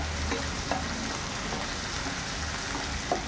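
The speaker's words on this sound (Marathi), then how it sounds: "आणि कांदा फ्राय करून घेऊया." Chopped onion frying over a high flame in a pan for sev upma, giving a steady, dense sizzle with a few faint clinks, close and continuous without any voices.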